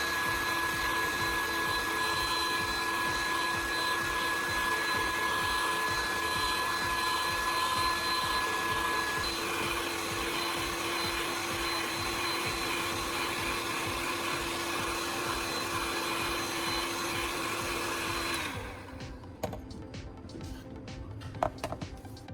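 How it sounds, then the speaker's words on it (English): A hot air gun runs steadily and loudly while softening a plastic sheet, a continuous airy whine that holds for about eighteen seconds and then cuts off, leaving faint clicks and handling noise. "I use a hot air gun to soften the plastic"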